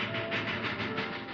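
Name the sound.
train in a TV western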